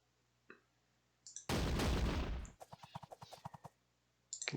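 Light gun fire in the Sengoku Jidai strategy game, a dense burst of musket volleys followed by a rapid string of separate cracks, fairly faint in the game mix.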